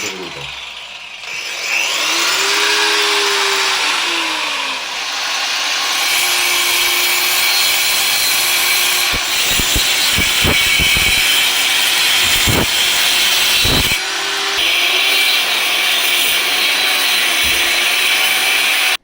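Foam corners of an Emma mattress are cut off with a blade, giving repeated rubbing, sawing strokes with scraping clicks across a steady noisy background, close and fairly loud.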